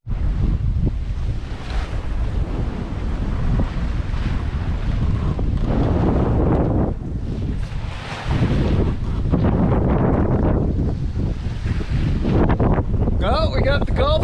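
Strong wind blows across open water at sea in the Gulf Stream, a steady loud roar with gusts and surf wash that dips briefly before surging again, with faint creaking near the end.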